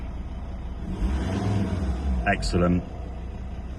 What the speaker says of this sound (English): Lovely and responsive on the revs there.